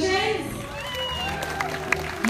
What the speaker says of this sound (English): can we have one more round of applause for our drummers, our canoe pushers, and our lovely musicians?